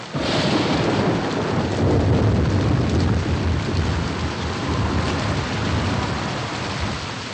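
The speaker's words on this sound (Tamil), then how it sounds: "அண்ணாச்சி ரொம்ப மழை பெய்யுது." Heavy rain pours down in a dense, unbroken roar with rumbling thunder underneath, loud and steady throughout with no voices.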